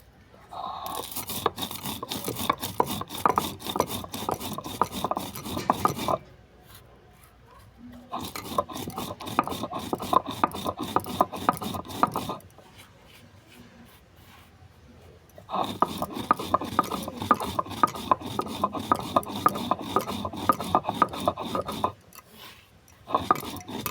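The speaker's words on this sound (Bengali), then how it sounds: "সমস্ত মশলাগুলো একই সঙ্গে গুঁড়ো করে নিচ্ছি।" Whole spices for a raw mango pickle being ground on a traditional stone grinding slab, with dense rhythmic rasping strokes that run in three long bursts separated by short pauses, close and loud.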